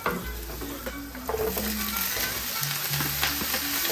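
Carrots and broccoli sauté in butter with garlic in a pan, making a constant close sizzle with stirring scrapes over a low background hum, no one speaking.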